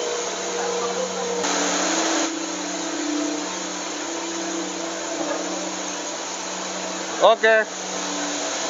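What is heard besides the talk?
mixer mixing animal feed mash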